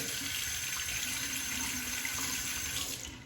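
Steady running water from a tap splashes continuously as a face and razor are rinsed after a water-only shave, broadband and fairly loud throughout, with no talking.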